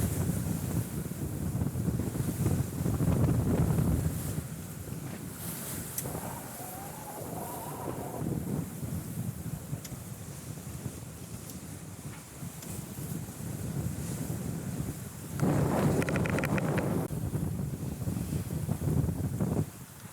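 Sailboat under full genoa and a mainsail with one reef in 15 to 20 knots of apparent wind, with steady rushing wind and water noise and heavy buffeting on the microphone, no voices heard.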